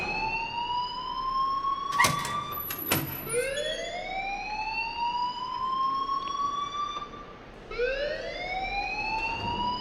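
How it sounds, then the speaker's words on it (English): An alarm rings out in the Life Is Strange video game, a loud electronic tone sweeping upward again and again in a steady whooping cycle, with a couple of sharp clicks near the start. "please turn off that alarm since that's your job"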